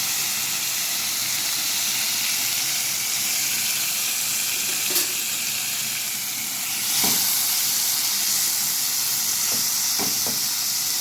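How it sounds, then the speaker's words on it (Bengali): Marinated prawns fry lightly in a hot pan, giving a steady, moderate sizzle and hiss with a few soft clinks and stirring knocks near the end; no one speaks. "তো আমার ম্যারিনেট করা যে চিংড়ি মাছটা দিয়ে দেব।"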